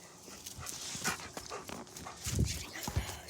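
A pet dog outdoors on a cold day makes close, restless sounds, quick breaths and shuffling movement in short bursts over faint background noise.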